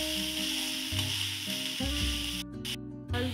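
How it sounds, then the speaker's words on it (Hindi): Ingredients for vermicelli pulao fry in a pan, a steady close crackling sizzle with occasional stirring scrapes and slight shifts in intensity. "चीज़ों को हम भून लेते हैं अच्छी तरीके से।"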